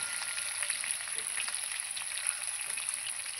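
Curry sizzling steadily in a pan with salt and turmeric, a dense close hiss of frying oil with faint stirring scrapes and no talk. The curry is made with egg, potato and taro.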